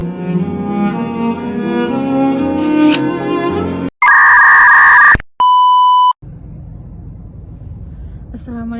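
Sharp electronic beep tones cut in abruptly after a stretch of music, two loud sustained bleeps in quick succession, then a faint background hum.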